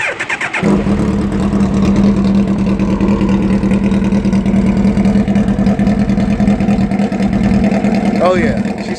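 A motorcycle with a full racing exhaust starts and then idles loud and close in a deep, steady, throbbing rumble, with a brief rev near the end.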